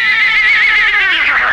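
A horse whinnies in a Romanian radio comedy about stuntmen, a single loud, close, wavering neigh that rises and then falls away over about a second and a half.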